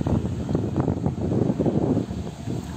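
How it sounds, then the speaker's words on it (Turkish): Strong wind at a forest fire site near Milas, roaring as a steady low rumble against the microphone with gusty swells and no other distinct sounds. "Rüzgar var. Hatta çok var. Yani çok şiddetli rüzgar var."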